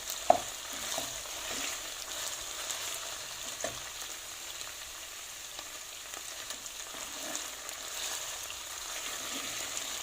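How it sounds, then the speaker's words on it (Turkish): Chopped garlic fries in a pan for a Turkish forest kebab, a steady soft sizzle with occasional light scrapes and clicks of stirring, close and even, with no voices. "Sarımsaklarını da içerisine attım. Sarımsağın aromasının güzelce içerisine geçmesi gerekiyor. Şöyle 1-2 dakika kavuruyorum."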